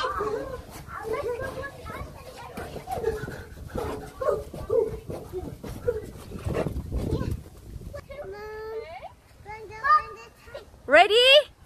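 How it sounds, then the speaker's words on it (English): A dog at an outdoor playground is heard with children talking and playing around it, then gives a series of high, whining yelps that grow louder toward the end. "There's the dog."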